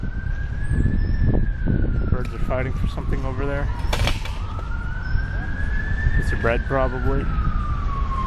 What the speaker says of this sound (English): listening to police sirens. Or no, that's an ambulance.